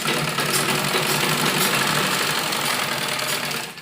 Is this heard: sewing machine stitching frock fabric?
yes